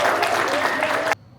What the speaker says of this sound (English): Huge round of applause for our participants today.